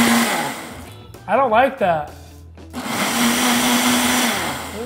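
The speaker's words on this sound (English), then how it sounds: "scared of a blender" Kitchen blender whirring steadily for a smoothie challenge, loud and continuous except for a short break where a person speaks briefly, then the motor resumes at full strength.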